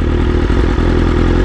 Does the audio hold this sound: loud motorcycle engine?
yes